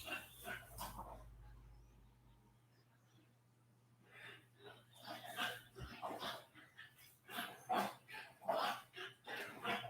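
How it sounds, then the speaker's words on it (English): A dog in the room barks and yips in scattered bursts, moderately near, mixed in with intermittent talking over a quiet indoor background. "If you're hearing noise, that's the dog"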